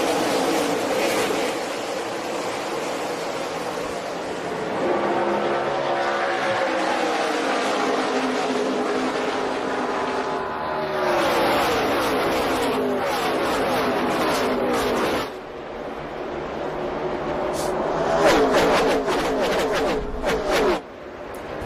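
Stock cars roar as the green flag drops for a truck series race at Michigan, a loud, sustained engine drone that swells and shifts with a passing pack, broken by a brief dip midway.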